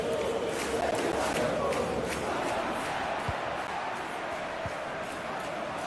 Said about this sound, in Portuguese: Hoje a torcida é só alegria no estádio